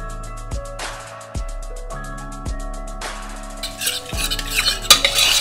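A pot of chicken laksa is stirred as coconut milk goes in. Sharp metallic clinks and scrapes from a spoon against the pot come first, then a louder, bubbling sizzle rises in the last seconds, with no talk.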